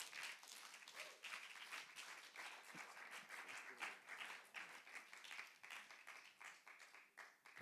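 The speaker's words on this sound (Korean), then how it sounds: "우리 강사 목사님 나오실 때 우리 힘차게 박수로 환영하며 맞이하겠습니다" A church youth retreat congregation claps to welcome a visiting pastor, sustained energetic applause with distinct sharp claps rising out of a dense, steady wash.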